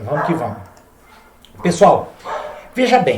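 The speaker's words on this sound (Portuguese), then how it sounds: "Olha os cachorros latindo" Dogs bark and yip close by while someone talks over them.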